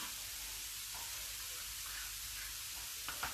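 Vegetables sizzle steadily in a pan over high heat, a dense continuous frying hiss close up with a few faint clinks near the end.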